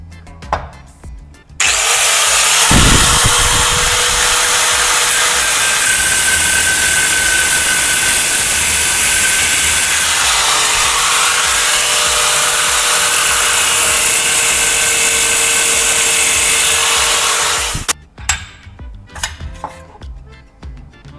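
A power tool loudly cuts the steel tang of a knife for a new handle, a sustained harsh grinding screech lasting about sixteen seconds before it stops abruptly, with quieter clatter before and after.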